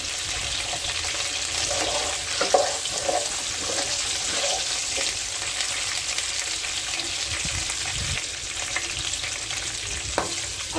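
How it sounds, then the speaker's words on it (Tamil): Cumin seeds and fenugreek fry lightly in hot oil for a shark fish gravy, a steady close sizzle with occasional stirring scrapes and small pops throughout. "இதை லைட்டா ஃப்ரை பண்ணிக்கோங்க"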